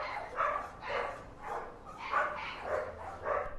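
A dog barks repeatedly at RSPCA kennels, about six evenly spaced, moderately close barks in a steady rhythm, with no talking.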